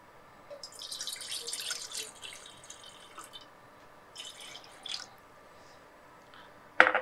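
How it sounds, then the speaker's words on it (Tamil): Water poured into a pan for sugar syrup in a home kitchen: soft, quiet trickling and splashing in a few short bursts, ending with a sharper clink near the end. "கொஞ்சம் தண்ணி சேர்த்துடலாம்."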